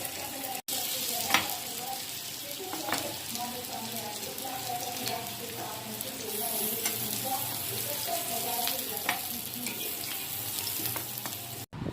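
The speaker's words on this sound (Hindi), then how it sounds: "अब हमने सीख इस तरह से बना चुके हैं और एक फ्राई पैन में हल्का सा ऑयल डाल के गरम किया है, तो इस तरह से इसमें रखेंगे।" Chicken seekh kebabs fry in a small amount of hot oil in a frying pan, giving a steady, close sizzle throughout with occasional crackles and stirring noises.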